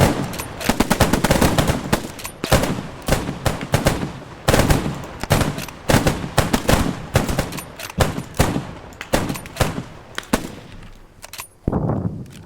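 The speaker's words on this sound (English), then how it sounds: "first platoon, at your leisure, 5 rounds down range and then cease fire" Rifle volleys during an infantry training event in the World War II game Squad 44, fired from behind sandbags: many loud, sharp cracks in quick, irregular succession, overlapping at times, with brief gaps and a final few scattered shots.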